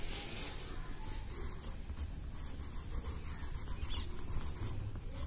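Pen or pencil scratching steadily across paper while filling in an English grammar exercise, a close, continuous soft rubbing with no speech.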